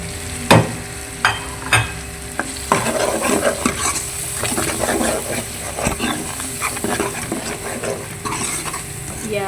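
Spice masala of turmeric and crushed red chilli frying in oil for a turnip (shalgam) dish, with a steady sizzle and repeated scraping, clattering stirs against the pan, up close and with no talk.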